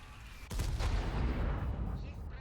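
The Object 703 II, a premium tier VIII double-barrelled tank in World of Tanks, fires a single heavy, booming shot with a sharp onset, followed by a long rumbling decay.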